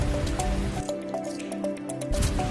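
Rock sample fizzing in acid, small bubbles popping and crackling with wet squishy drips, steady and close throughout.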